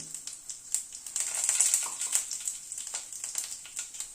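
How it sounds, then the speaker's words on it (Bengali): Dried red chili, bay leaves and five-spice seeds crackle in hot mustard oil over a low gas flame, giving a close, busy patter of small pops and hiss that swells briefly in the middle. "তেলটা গরম হওয়ার পরে গ্যাসের ফ্লেমটাকে কমিয়ে দিলাম। একটা শুকনো লঙ্কা দিলাম, 2টো তেজপাতা দিলাম, 5 ফোড়ন দিলাম"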